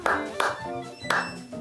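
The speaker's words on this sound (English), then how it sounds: "Remember to always practice your clapping with a metronome" Hands clap sharply along to a musical score, three loud separate claps with a short gap, then a longer pause before the third, with tonal ringing music sustained underneath.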